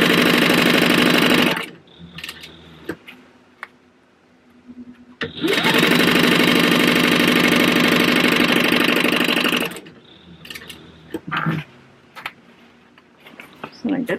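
A sewing machine runs in two long bursts while stitching a quarter-inch seam allowance on a fabric book bag panel. The motor whirs loud and close, with short quieter gaps between the runs where soft handling sounds and brief speech come through.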